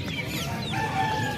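Jungle fowl and other fowl at a traditional Javanese bird market, with rooster-like calls and clucking rising over a busy crowd murmur that runs throughout.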